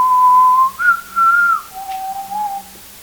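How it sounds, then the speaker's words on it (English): A person whistles a sustained tune of three long held notes, a steady tone stepping up and then down, loud and close with no talk. "Yeah, I whistle."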